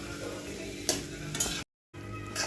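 Onions frying in a pan for a spicy brinjal dish, a steady close sizzle with stirring scrapes and a couple of sharper clinks, broken by a brief cut of silence before the frying resumes.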